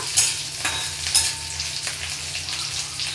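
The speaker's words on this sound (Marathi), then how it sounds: "पीठ परतून घेऊया" Flour sautés in a pan, a close sizzle broken by a few sharp scraping stirs of the spoon early on and softer stirring after, with no one talking.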